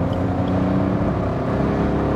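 A 2017 Suzuki Baleno's 1.0-litre Boosterjet turbo engine pulls steadily in third gear on a motorway from 80 to 100, a continuous droning hum with road rumble heard from inside the cabin.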